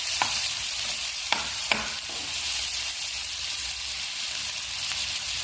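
Ridge gourd and tomato frying in a pan for a palya, a steady close sizzle broken by a few sharp scrapes and clinks of a stirring spoon early on, then a calmer continuous crackle.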